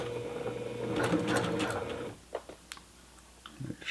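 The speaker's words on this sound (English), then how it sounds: "just want to sew the seam together." A sewing machine runs steadily for about two seconds, stitching the shoulder seam of a men's T-shirt, then stops, leaving a few soft clicks and fabric handling sounds.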